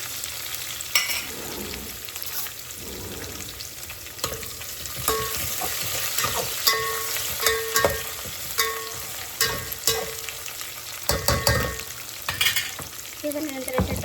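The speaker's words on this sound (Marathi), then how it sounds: "त्याला छान गोल्डन ब्राऊन होईपर्यंत फ्राय होऊ द्यायचं" Food frying in a pan until golden brown gives a continuous sizzle, broken by repeated scraping and clattering strokes of a spoon stirring, close and moderately loud, with no voices.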